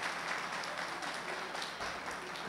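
Audience applause fills a Destravar Day self-development event, a dense, steady wash of many hands clapping at moderate distance for the whole stretch, with no voices rising above it.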